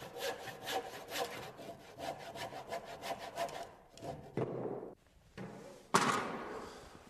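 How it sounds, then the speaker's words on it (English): A handsaw cuts notches into a wooden stair carriage with quick, rhythmic back-and-forth rasping strokes up close, followed by a few thumps and a final sharp knock. "When I'm making my cuts with a handsaw"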